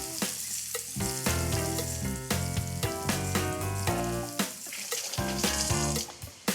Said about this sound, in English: I'm going to saute these just 2 minutes aside